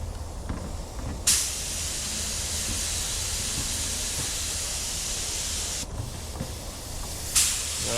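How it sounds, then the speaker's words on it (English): Spray onto a small piece of sheet metal: a steady broadband hiss running almost continuously, with two short louder bursts at the start of passes, close and fairly loud with no talking. "So we're going to spray this little piece of sheet metal."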